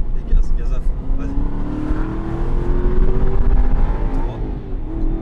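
An Aston Martin accelerates at full throttle on a track, its engine note climbing loud and close from inside the car while an instructor talks over it.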